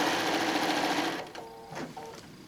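A sewing machine runs close up, stitching a pillow seam beside piping in a fast, steady whir, then stops, leaving a few soft clicks and brief tones.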